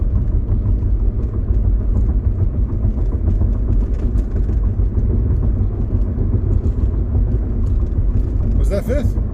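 Mercedes W202 engine pulling hard and revving as it climbs through the gears, a loud continuous low drone from inside the car with people talking over it.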